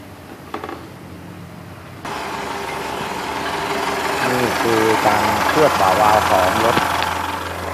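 Isuzu D-Max diesel engine, running rough and smoky, held at a steady 1500 rpm with a continuous drone that rises after a short quieter start, while people talk close by.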